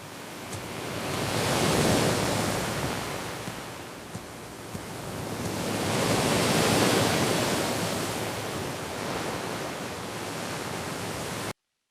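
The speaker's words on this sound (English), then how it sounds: "the sound of waves crashing is heard in the background" Ocean waves crash and wash onto a beach in broad, rolling surges that swell and fade, loud and close, with no voices.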